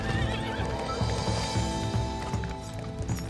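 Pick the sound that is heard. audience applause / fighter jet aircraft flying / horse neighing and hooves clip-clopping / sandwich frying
horse neighing and hooves clip-clopping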